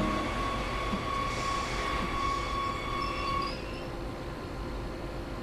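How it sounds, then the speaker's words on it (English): An electric multiple unit train brakes to a halt in Train Sim World, giving a steady rumbling roll with a thin high tonal whine from the brakes and motors that fades partway through as the train slows. "Before traveling too far, let's bring the train to a halt."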